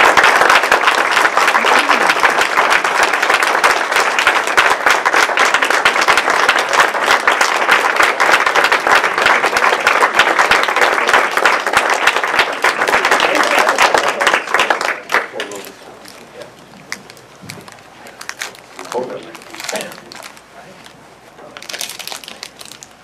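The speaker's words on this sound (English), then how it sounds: "let's give them another round of applause" Loud, sustained applause from an audience at a Toastmasters contest, dense clapping for about fifteen seconds before fading to scattered claps and quiet room noise.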